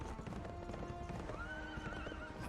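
Horse in the Berserk and the Band of the Hawk action game, steady clip-clopping hooves under a drawn-out neigh, loud and close against busy battlefield ambience.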